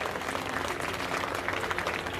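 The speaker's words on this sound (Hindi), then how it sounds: "बजा दो ताली" An audience at a political event in Sagar applauds a former minister's speech, steady dense clapping that fills the whole moment without pause, with no voices rising above it.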